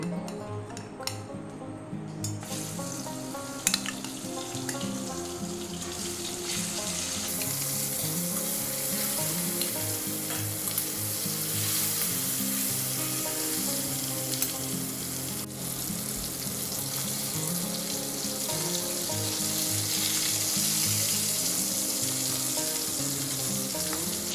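Pieces of fish frying in mustard oil with turmeric and salt, a steady dense sizzle with a few clinks, continuous and close throughout with no talking.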